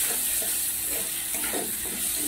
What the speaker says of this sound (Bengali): দিয়ে খুব ভালোভাবে কষিয়ে নেব।